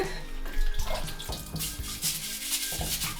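Salvaged glass blocks from a diner being washed by hand with soap and water, running water splashing steadily with repeated knocks and scrubbing clunks of glass in a basin, close up.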